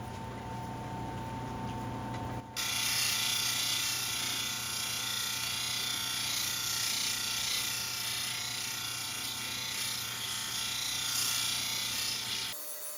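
A 1200 grit lapidary wheel grinding a Lake Superior agate, a steady high whirring hum with a faint buzz, close and continuous for the full length of the clip.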